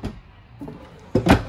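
A drawer slides open and shut inside a 2021 Starcraft Telluride 296BHS camper, with soft sliding rumbles, then a louder close knock and thud near the end.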